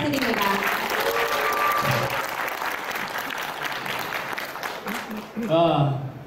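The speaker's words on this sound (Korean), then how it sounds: "다시 한번 박수 부탁드립니다" Audience applause at a humanities lecture concert on Western art history, a steady, continuous rush of clapping from a seated crowd, with a host's voice talking over it at the start and end.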